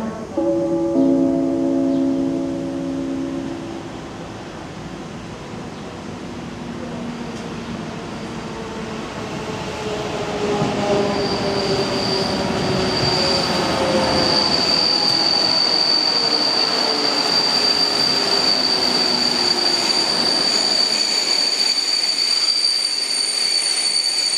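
A Czech Railways express train rolls into Zábřeh na Moravě station and slows to a stop, wheels squealing and rumbling at first, then a long high brake screech as it halts nearby.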